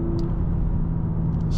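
A 2024 BMW M3 Competition xDrive accelerating at half throttle on a mountain road, a steady loud engine drone and low rumble from inside the car, with no talking.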